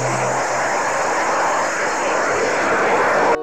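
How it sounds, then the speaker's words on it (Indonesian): A military fighter jet in the video game Jurassic World Evolution 2 gives off a loud, steady engine roar with a whining tone, holding constant for a few seconds before cutting off abruptly. "di sini ada pesawat jet tempur."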